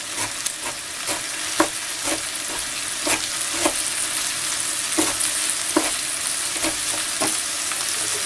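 Garlic frying in a pan with a steady, close sizzle, punctuated by regular sharp clicks and scrapes of stirring roughly every half second.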